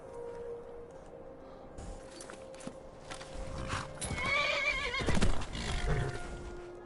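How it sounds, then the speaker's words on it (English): A horse neighs loudly in a rising, quavering whinny in a video game played on PS4, with hooves clopping and a steady low hum behind it. "Alright, how the hell do I get off the horse?"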